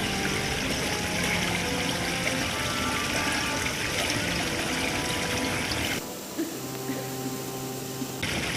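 A waterfall and river in a jungle, a steady rushing wash of flowing water that is loud and close, then drops to a quieter trickle near the end.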